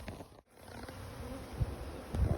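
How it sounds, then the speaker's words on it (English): Russian honey bees from a large swarm buzz around stacked hive boxes, a steady close hum with low bumps from handling the equipment and no voices. "I'm going to get all the bees out of these upper boxes."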